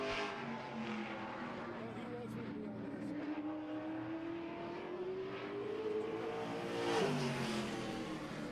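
A race car circles a track during a season opener, its engine rising and falling in pitch as it accelerates past at a distance, under an announcer's voice.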